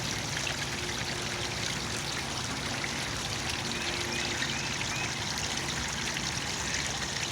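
Steady trickle of water from a little peeing-man fountain into a garden fish pond, a continuous close splashing stream with no pauses.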